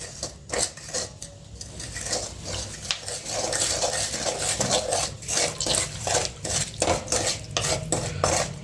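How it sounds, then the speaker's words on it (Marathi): Semolina and dry fruits roast in ghee in a pan for shira prasad, with a spoon scraping and stirring steadily against the metal in a continuous, close rhythm under a soft sizzle. "तुपामध्ये सुद्धा आपल्याला चांगलं फ्राय करायचं आहे ह्याला भाजून घ्यायचं आहे रव्याला"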